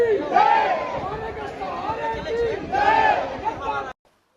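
Dense crowd of devotees packed inside the Khatu Shyam temple in Rajasthan, a loud, continuous hubbub of many voices with rising shouts and calls swelling twice before cutting off abruptly.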